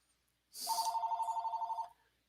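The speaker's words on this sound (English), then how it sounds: "And that is the phone right now." A home telephone rings once, a single burst of rapid trilling electronic bell tone lasting over a second, clear and fairly close, surrounded by silence.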